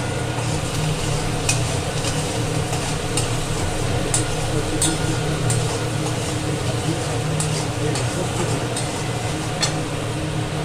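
Posto paste with sugar being stirred and fried in a pan, a steady sizzle with continuous scraping of the spatula against the pan, close and fairly loud throughout, no talking.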